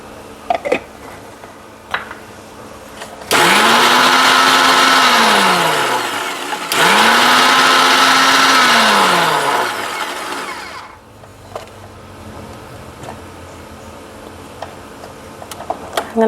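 A kitchen mixer grinder blending garlic paste for hotel-style alfam, running in two loud whirring bursts of about three seconds each, its motor pitch dropping as each burst winds down, with quiet clinks before and after.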